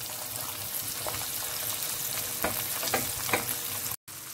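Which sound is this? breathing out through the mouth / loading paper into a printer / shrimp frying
shrimp frying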